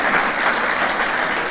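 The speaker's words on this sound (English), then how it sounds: "I think that applause is not good enough, it's not big enough" Loud, dense applause from a large audience at a conference plenary opening ceremony, a steady close wash of clapping without pause.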